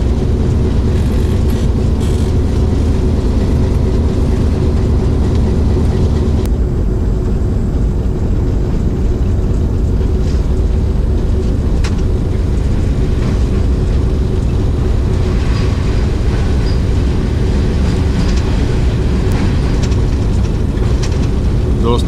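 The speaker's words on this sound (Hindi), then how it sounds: "इस वक्त हम माल्टी इंडस रिवर के ऊपर से पास थ्रू हो रहे हैं खुशहालगढ़ ब्रिज के ऊपर से" Kohat Express passenger train rolling over the 150-year-old Khushalgarh rail bridge across the Indus River, a steady loud rumble and rattle of wheels and carriages running continuously throughout.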